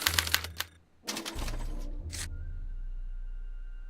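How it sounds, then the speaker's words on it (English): A special typewriter clatters in quick mechanical bursts as it prints out a punch card, then a steady low hum and a thin whine carry on alone. "they're relayed to this special typewriter, which prints out a punch card that represents the subject's mind map"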